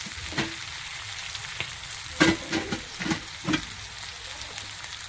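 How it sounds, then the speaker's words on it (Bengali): Steady sizzling of food frying in a pan before adding turmeric, chilli, coriander and cumin powders, with irregular scraping and clinking strokes as it is stirred, close by. "ভালো করে ভাজা হয়ে গেছে"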